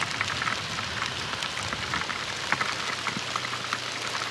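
Heavy rain pours down steadily, a dense, continuous hiss of drops pattering on surfaces with occasional sharper splashes, moderately loud and without speech.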